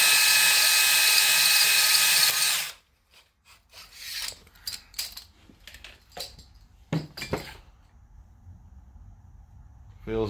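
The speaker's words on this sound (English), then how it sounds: "so these are just stones, and we're gonna put them on the drill." A drill spinning honing stones in reverse whines loudly at high speed for a few seconds, then cuts off, followed by quiet scraping, clinks and rubbing sounds, during ring and valve work on a smoking Honda GX390 engine.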